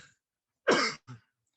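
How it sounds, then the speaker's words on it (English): A single sharp cough followed by a shorter second cough from a seminar speaker, close and distinct against silence. "Sorry for the cough."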